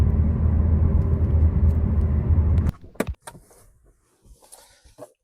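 A car engine drones loudly and steadily while the automatic transmission shifts, then the rumble drops away suddenly, leaving a few faint clicks and light knocks.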